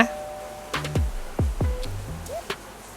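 A bright bell chime for a subscribe reminder rings out in several quick struck tones, each decaying fast, followed by a few softer pings, close and clear with no talking.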